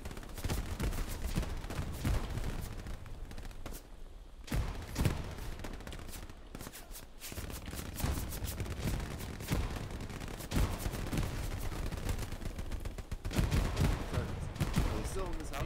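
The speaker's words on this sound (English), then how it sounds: "There's a machine gunner somewhere 50." Dense machine gun fire and scattered gunshots crackle through a WWII battle at Stalingrad in Hell Let Loose, near and far bursts overlapping continuously with occasional talk underneath.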